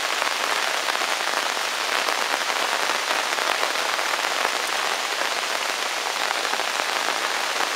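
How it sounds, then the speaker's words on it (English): Heavy pouring rain outdoors with little wind, a dense, continuous hiss of drops hitting surfaces, steady and even for several seconds with no voices. "pouring rain, but not really too windy."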